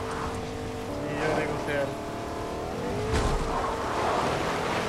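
A car driven in the video game Fortnite, its engine roaring and revving continuously with shifting pitch, under people talking over it.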